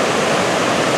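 The Ohanapecosh River runs high near Silver Falls at Mount Rainier, a steady, loud, close roar of rushing white water.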